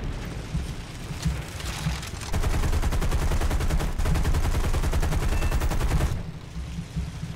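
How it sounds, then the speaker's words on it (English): A .50 cal machine gun fires in the War Thunder video game during an aerial dogfight against a Buffalo fighter. The gun gives a long, rapid, steady burst lasting several seconds over a constant engine roar. No one talks. "I'll be able to light him up with a 50 cal machine gun presently"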